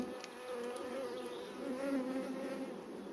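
Honeybees buzzing at a beehive during a hive inspection, a dense, steady, close-up drone that holds at an even level throughout without pause.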